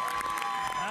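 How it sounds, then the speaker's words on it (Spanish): A studio audience applauds guest Rafael Lenín López on a television show, a short burst of clapping and cheering, with a tone and voices mixed in. "un fuerte aplauso a Rafael Lenín López por estar con nosotros"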